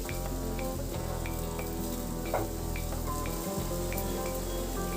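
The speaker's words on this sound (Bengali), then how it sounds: "ঢাকাটা খুলে আবারও আমি ভালো করে নাড়াচাড়া করে মিশিয়ে দেব" Potatoes and beans frying in a pan, a steady close sizzle and crackle with a faint scrape from stirring partway through.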